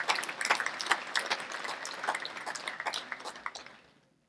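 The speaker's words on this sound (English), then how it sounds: "A round of applause, if you would, for our top five finishers" A crowd at a drag racing awards ceremony applauds steadily, a dense patter of many hands clapping that gradually fades out.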